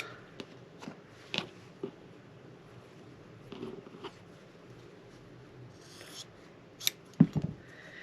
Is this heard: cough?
no